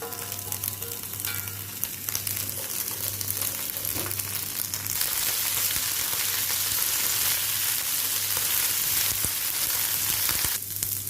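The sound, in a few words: cashews frying in ghee in a pan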